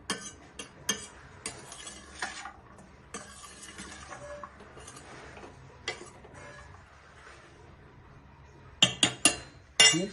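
A spoon stirs a bean salad with grapes and pomegranate in a bowl, giving sparse soft taps and scrapes, then a cluster of sharper clinks against the dish near the end.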